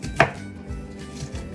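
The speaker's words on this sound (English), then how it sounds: "the same thing with the onion as far as chopping" Onion chopped with a sushi knife on a cutting board, one sharp close knock followed by a few softer cuts, no talk.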